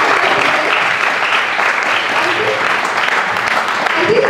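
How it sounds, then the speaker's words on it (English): An audience gives loud, sustained applause at a school alumni meet, a dense, even wash of many hands clapping that lasts throughout, with faint voices beneath it. "Can we have a big round of applause for that?"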